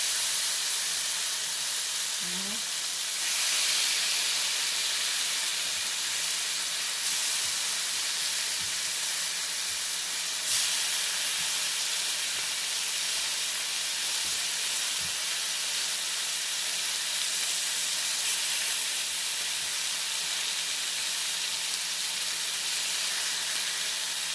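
Beef and liver frying together in a hot pan, giving a steady, loud, broadband sizzle and hiss that holds evenly throughout with no talk.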